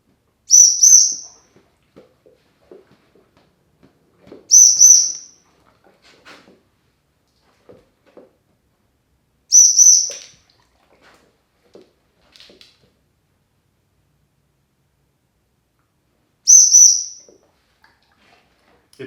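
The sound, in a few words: dog training whistle being blown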